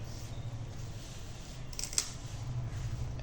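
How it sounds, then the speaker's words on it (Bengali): Leafy greens (shak) are cut with short, crisp snipping strokes close by, one sharper snap standing out, over a steady low background hum with no talk. "দুটো শাক কেটে নিই শাক রান্না করি"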